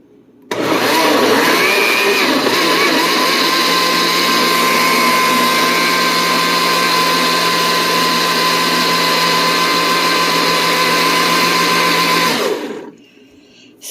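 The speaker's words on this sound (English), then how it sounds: "we're going to keep pureeing that up until it gets well blended" A blender purees tomatoes for spaghetti sauce, running loud and steady for about twelve seconds with a constant high whine, then cutting off. Nobody speaks.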